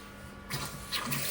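Water rushing out of a concealed shower's plumbing as it is purged after a temperature cartridge change, a steady hiss that swells louder partway through and continues without talk.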